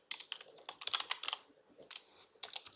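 A password typed on a computer keyboard: quick clusters of close, light key clicks with a short pause midway, quiet and alone.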